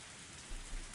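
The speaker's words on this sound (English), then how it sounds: "Even in this torrential rain, they didn't have an umbrella." Torrential rain pours down in a video game: a dense, steady hiss of heavy downpour with a couple of slightly louder swells and no voices.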